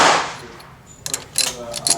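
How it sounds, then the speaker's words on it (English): A 1890s Krag carbine's trapdoor gate is loaded with rounds: after a short noisy rustle, a series of sharp metallic clicks and clacks sound close up, alone. "You can just load them through the trapdoor gate."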